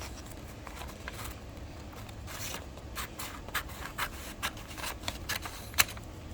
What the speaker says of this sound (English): then you're just going to cut this strip